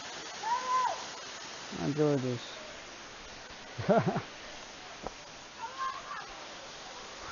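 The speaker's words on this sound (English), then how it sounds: "Waterfall's pretty dope." A waterfall near stone steps, with small children playing in the pool, rushes steadily throughout while someone talks over it and other voices come and go.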